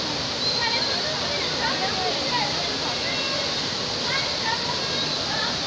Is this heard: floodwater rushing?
yes